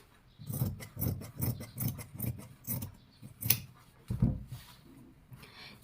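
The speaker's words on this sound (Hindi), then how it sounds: "यहाँ से मैं कट कर लेती हूँ एक्स्ट्रा फैब्रिक को।" Scissors snipping away extra blouse fabric in a quick series of crisp, close cuts, about a dozen strokes in an uneven rhythm, with a short pause before the last few.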